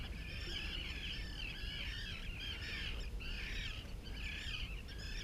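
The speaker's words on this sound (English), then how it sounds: "it sure is nice to hear those birds again" Birds call repeatedly in overlapping bursts, mid-distance, over a steady low background hum on a flat calm, foggy morning in Falmouth; no voices.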